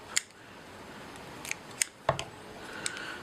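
Sharp scissors snip a few times while trimming fly tying materials on an Amy's Ant pattern, a handful of brief, close clicks spaced irregularly over quiet room tone.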